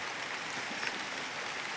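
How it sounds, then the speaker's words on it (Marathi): Light rain drizzles outdoors near a mango orchard, making a soft, even hiss that stays faint and continuous with no other prominent sounds. "आता ना पाऊस येतोयच थोडा टिपका."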